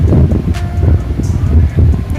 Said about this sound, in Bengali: হাওয়া ভালোই পরিমাণে হচ্ছে বৃষ্টিও পড়ছে